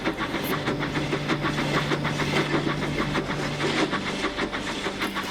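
A locomotive runs along rails with steady rhythmic clickety-clack of wheels over joints and a continuous engine drone, loud and close, with no voices.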